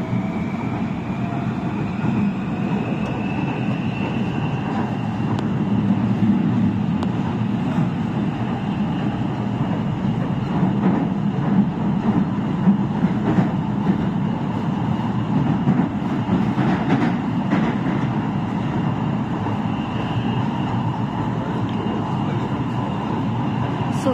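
Interior of a moving metro train in Beijing, China: a steady low rumble and hum of the ride with faint whining tones and occasional rattles, constant throughout.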